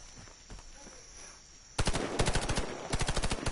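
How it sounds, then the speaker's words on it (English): Rapid automatic gunfire in the Titanfall video game, loud sustained bursts of shots starting abruptly after a quieter stretch of game ambience, repeating in tight rhythmic volleys. "There's a kid shooting at us."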